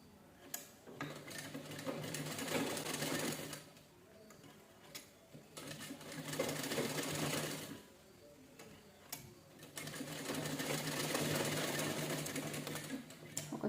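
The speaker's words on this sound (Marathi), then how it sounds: "गोल सर्कलमध्ये पूर्ण शिलाई करून घ्यायची, तिन्ही कपडे व्यवस्थित जोडून घेऊन." Sewing machine runs in three long bursts with brief pauses between, a steady mechanical whir and ticking as it stitches a round seam joining three layers of cloth for a circular seat, close and fairly quiet.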